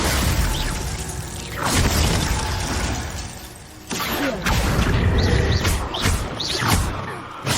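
A Bombarda blasting spell in Hogwarts Legacy erupts in loud booming blasts with crashing, shattering debris and whooshes, a big burst near two seconds and another heavy impact near four, followed by continued rumbling destruction.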